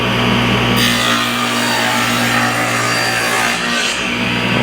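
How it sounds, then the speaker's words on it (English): A saw cuts a wooden faceplate for a custom foyer table, a loud, continuous rasping stroke sound close up with a steady motor hum beneath it. "I'm going to cut this faceplate out 14 inches wide."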